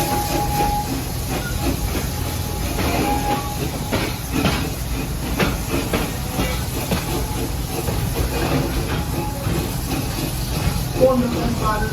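Serengeti Express excursion train at Busch Gardens Tampa rolls steadily along its track, a continuous rumble with faint clacks throughout, while a narrator talks over the ride.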